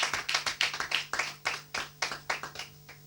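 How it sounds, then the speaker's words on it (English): Sharp, irregular hand claps from a small group applauding quiz show contestants on a televised school quiz program, close and distinct, with no talking over them. "A round of applause for all of them."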